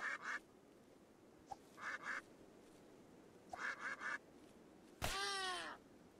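Ducks quack in the Rimworld video game, three short paired bursts of quacking followed by a longer, louder honking call, faint over a quiet background.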